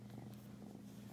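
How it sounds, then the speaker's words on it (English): A domestic cat purrs in a steady, low continuous rumble, close and fairly quiet, with no talking over it. "You're just going to be lazy and purr, huh?"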